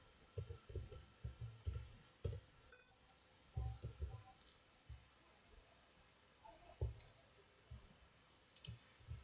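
Computer mouse clicks on a PC, sharp and close, in scattered single and double taps with brief pauses between, faint and in a quiet room.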